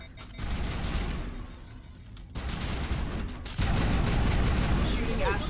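Bursts of automatic gunfire from the video game Mass Effect Legendary Edition during a fight against husks, rattling in uneven volleys that grow louder and denser toward the end.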